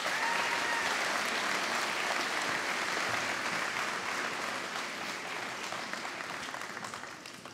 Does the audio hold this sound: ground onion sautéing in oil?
no